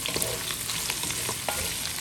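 Onions being stirred through a hot stir-fry of noodles and vegetables, a steady close sizzle with scraping utensil strokes scattered throughout, no talking.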